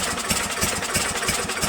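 Small engine of a Craftsman two-stage push snow blower running on choke, a steady rough chug with rhythmic firing pulses, close and fairly loud, with no talking.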